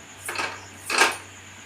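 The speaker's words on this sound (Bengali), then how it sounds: "গ্যাসটা জ্বালিয়ে কড়াইটা দিলাম" A wok set down on a lit gas stove gives two short metallic clinks about half a second apart, close and fairly quiet over a low hum.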